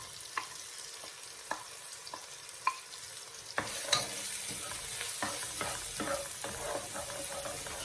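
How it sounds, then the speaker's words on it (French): Onions sautéing in a pan for potatoes in white sauce: a few sharp isolated clinks, then a fuller steady sizzle with repeated spoon taps and scrapes, close and moderately quiet. "Je la fais revenir avec les oignons."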